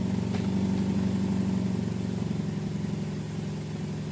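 The engine of a Chevy HHR with a transmission fault idles unevenly in reverse, a close, steady low hum whose pitch wavers and surges slightly, with no voices.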